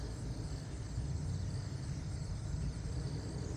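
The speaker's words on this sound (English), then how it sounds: "Yep, car's coming down the street." A car passes along a busy street in the morning, a low, faint rumbling hum that holds steady throughout with no voices.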